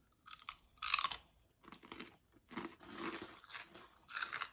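Crisp, close crunching and chewing of spicy pork cracklin dippers, a fried pork rind snack, coming in several loud irregular bursts of bites and chews separated by brief quiet gaps.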